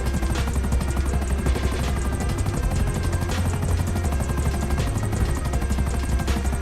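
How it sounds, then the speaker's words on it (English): A helicopter flies in the video game GTA Online, its rotor thumping in a fast steady beat over a loud continuous engine drone that stays constant throughout. "let you fly out here by helicopter"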